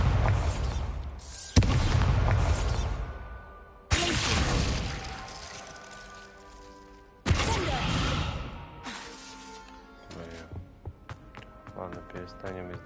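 Bombarda spell explosions in Hogwarts Legacy: three heavy booms with long rumbling tails, spaced a few seconds apart, then scattered crackling debris and clatter, loud and close.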